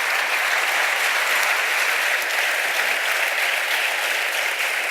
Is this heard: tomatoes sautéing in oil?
no